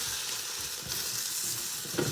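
An egg frying in butter crackles and sizzles steadily in a pan, a close, continuous hiss with no talking over it.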